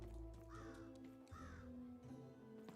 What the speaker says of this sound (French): C'est un corbeau.